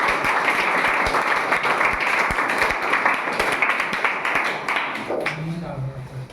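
Students in a Hindi-medium Class 10 quiz competition classroom clapping steadily, a crowded patter of claps that thins out near the end as a voice starts speaking.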